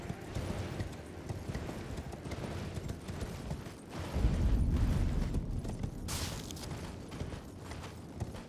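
A horse's hooves clip-clop along as a rider travels in the video game Elden Ring, a steady rhythmic trotting close by that swells midway, followed by a brief sharp burst of noise near the end.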